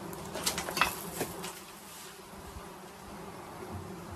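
A dense, continuous drone of hundreds of flies buzzing inside an old bread oven, with a few sharper close passes near the start and no speech.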